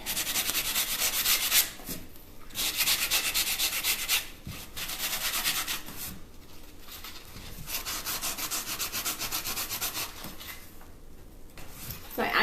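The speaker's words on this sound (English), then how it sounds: "So we're just sanding this off right now" Sandpaper rubs over tissue-paper decoupage on a skull in steady back-and-forth strokes, close and fairly loud, broken by brief pauses between bursts of scraping.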